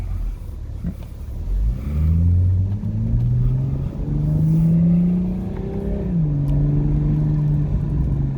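Engine of a 2021 Toyota Supra A91, a dealership car, pulling through gears on a road drive: steady close rumble rising in pitch, a pause for a slow first-to-second shift, then climbing again, with no talking.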